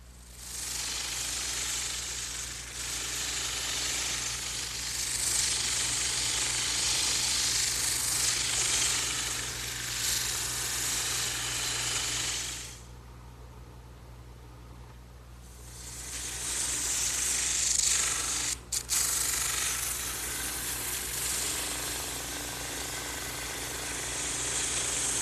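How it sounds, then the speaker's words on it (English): A drum sander smoothing the ends of wooden chair pieces, a loud continuous abrasive whir with steady hum, pausing for a few seconds midway before grinding on again, close by with no speech. "now I'm ready to smooth out the ends on the drum sander"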